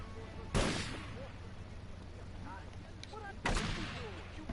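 Two separate gunshots or blasts from a GTA Vice City street scene ring out about three seconds apart, each a sharp crack that fades over a low ambient backdrop with faint voice-like sounds.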